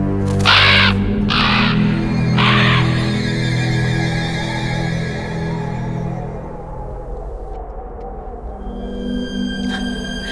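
Crows caw harshly in a horror film scene where they attack people across a town: three loud, raspy caws come in quick succession near the start, then fade into a quieter, tense backdrop with faint tones.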